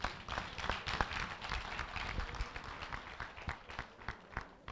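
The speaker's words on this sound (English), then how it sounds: "Give Dr. Johnson another round of applause" A forum audience applauding a speaker, a steady patter of many hands clapping at moderate distance, continuous for several seconds and tapering slightly toward the end.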